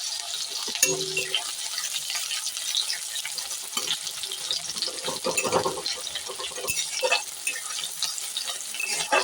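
Chopped onion sizzles steadily in a pan, a continuous bright frying hiss with occasional scrapes and clatters from stirring, close and fairly loud throughout.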